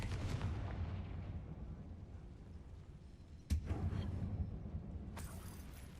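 The Confringo blasting spell in Hogwarts Legacy, fired in a spider-filled cave: a sharp, sudden explosive crack midway that rises over a low, rumbling game ambience, with another bright burst near the end.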